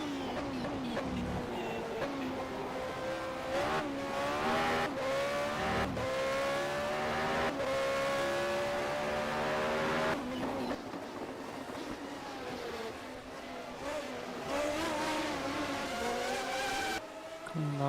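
A race car in P4OW Manager 2023 drives a lap at Buenos Aires, its engine whining steadily and rising and falling through gear changes and corners, loud and continuous, with some faint talk.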